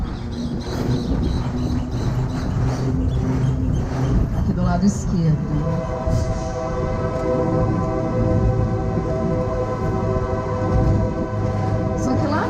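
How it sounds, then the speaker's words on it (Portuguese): A train passes by the port in Santos, heard as a steady loud rumble with tonal squeal and horn-like lines throughout, while a person speaks over it. "Olha o trem passando."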